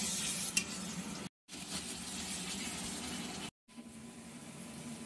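Ingredients for palak paneer sizzle and are stirred in a pan, making a faint, steady frying hiss with light stirring. Two abrupt silent gaps cut into the sound, and no one talks.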